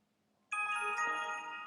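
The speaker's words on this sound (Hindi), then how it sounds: "जैसे ही मैं इसको रीट्राई करूँगा आप देखेंगे मेरे एजेंट ऐप में नोटिफिकेशन आएगी" A delivery agent app on a phone sounds its notification: a bright electronic ringtone starts abruptly after a near-silent moment and rings on steadily, clear and close.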